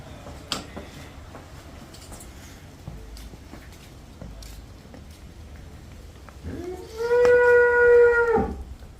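A cow lets out one long, loud moo near the end, after quieter background noise with faint stray sounds.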